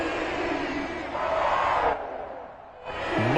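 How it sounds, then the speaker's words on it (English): Home crowd cheering in the Madden 22 football video game, a loud, sustained stadium roar that swells, dips briefly and surges back up. "And that might be exactly what they needed to wake up this home crowd"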